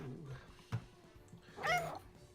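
A pet cat meows once, a short, close cry standing out against a quiet room, with a faint thump just before it.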